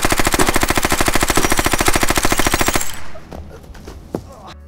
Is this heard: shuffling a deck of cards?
no